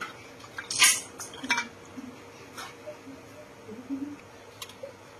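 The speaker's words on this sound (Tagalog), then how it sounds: "Tapos, ito yung butane. Lagay lang natin to guys." A butane canister clicks and clanks sharply as it is fitted into a portable gas stove, a few metallic knocks close by, with a voice speaking quietly in between.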